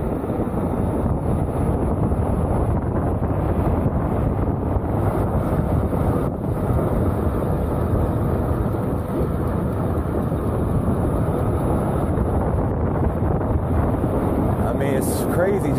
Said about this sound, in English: All you hear is you just hear the wind and that's it.